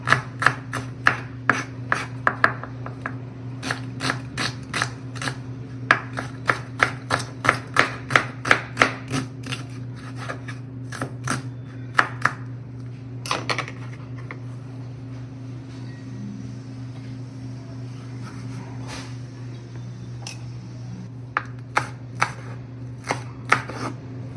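Onion chopped with a knife on a board, a rapid run of sharp close taps that slows to scattered cuts, over a low steady hum.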